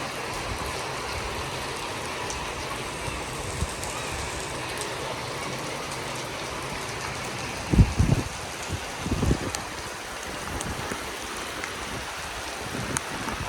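Steady rain falls during a bike ride through a village, a continuous even hiss that fills the whole stretch, with a few dull thumps and knocks near the middle and no voices.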